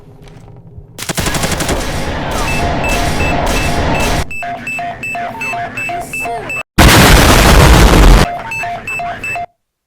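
Gunfire in the Roblox game Bodycam, with loud bursts of rapid automatic shots close up, broken by a brief silence, alongside repeated electronic beeps from the game.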